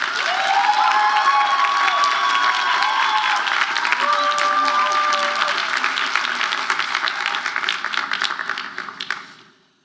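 A graduation audience at a Harvard Medical School master's ceremony applauds a student speaker with sustained, loud, dense clapping and scattered cheers, holding steady for several seconds before fading out to silence.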